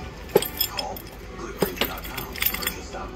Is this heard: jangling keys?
yes